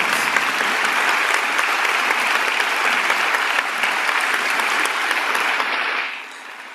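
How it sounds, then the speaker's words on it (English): Student athletes applaud their supporters at a championship breakfast, loud sustained clapping from a large room that tapers off near the end. "Can the student athletes who are in the room today stand up and give a big round of applause for our amazing supporters?"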